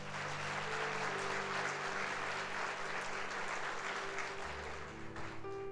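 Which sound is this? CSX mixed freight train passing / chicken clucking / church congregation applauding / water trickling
church congregation applauding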